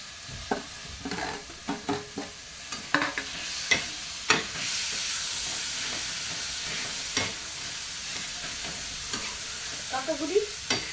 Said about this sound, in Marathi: आपण आता याच्यात घेऊ टोमॅटो टाकून